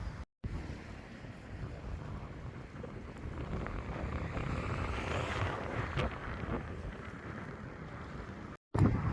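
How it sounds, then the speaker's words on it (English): Strong wind buffets the microphone at Hollingworth Lake, a loud, steady broadband roar with gusts swelling mid-clip, briefly cut by two short dropouts near the start and end. "as expected it's very, very windy"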